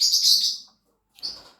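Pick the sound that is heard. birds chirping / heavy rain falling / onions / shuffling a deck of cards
birds chirping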